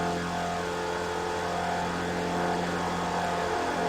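Spec Racer Ford engine in a sim racing game at Charlotte, a steady buzzing drone with slight pitch drops as the driver lifts off the throttle, loud and continuous.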